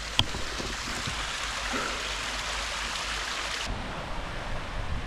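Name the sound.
waterfall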